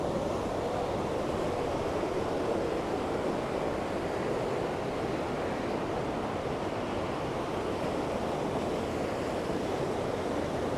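Water rushes steadily along a brook below a bridge at Collybrooke, a continuous close broadband wash with no gaps and no voices.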